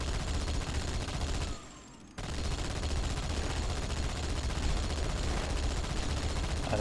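Shotgun fire in the video game Halo 2: Anniversary comes as dense, loud, continuous blasts with a brief gap near the middle before the firing resumes.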